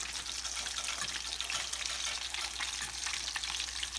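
Meatballs browning in a frying pan, a continuous close hiss and crackle of hot fat with small popping bursts, steady and uninterrupted for the few seconds.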